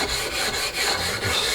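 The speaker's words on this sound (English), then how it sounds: "Give it a quick rub down with sandpaper" Sandpaper rubs steadily over an old wooden stool under repair, a loud, close, continuous scratchy hiss with slight pulses from the back-and-forth strokes.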